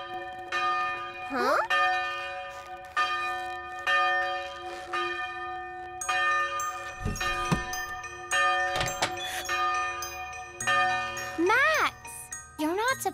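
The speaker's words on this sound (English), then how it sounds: "You're supposed to ring your little Christmas bell." Small Christmas bells ring out in a holiday setting, bright jingling and tinkling strikes repeating in bursts over about thirteen seconds, with some children's voices and thumps mixed in between the rings.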